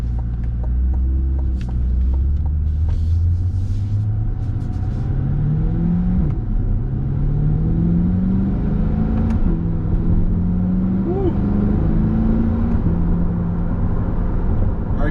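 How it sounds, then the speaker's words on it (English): A 2021 Chevrolet C8 Corvette accelerating in track mode, its engine note climbing through repeated rising pulls with brief drops between gear shifts, loud and close from inside the cabin. "we're in the C8 right now and we're gonna take it for a quick spin"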